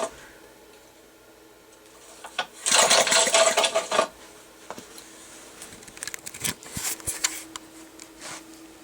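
A Briggs and Stratton 3hp small engine is cranked for a spark test in a brief loud burst of rapid mechanical whirring and clattering, followed by scattered clicks and quieter mechanical noises.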